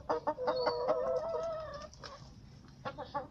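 Leghorn and other chickens in their coop give close, loud clucks and a drawn-out, tonal cackling call, followed by a few scattered short clucks.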